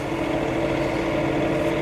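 A tractor engine runs at a steady idle-like drone, continuous and fairly loud with an even low hum and no talk over it.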